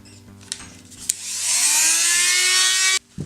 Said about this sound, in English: you can actually use the Dremel to make the first couple incisions